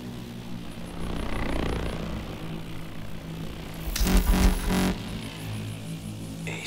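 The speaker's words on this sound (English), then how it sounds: "Chopper's moving off." A video-game helicopter moves off over a Russian jungle, its steady rotor drone and engine whine close at first, then a brief loud surge of rotor thumping before the sound settles into a fading hum.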